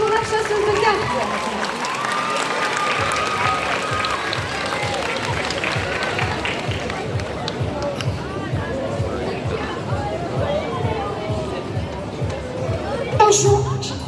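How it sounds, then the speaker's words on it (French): Crowd applause and cheering for a Cardcaptor Sakura cosplayer at a manga fan event, steady, dense clapping with babble running throughout and a brief louder swell near the end. "Est-ce qu'on peut me donner un tonnerre d'applaudissements pour Sakura, de Sakura chasseuse de cartes?"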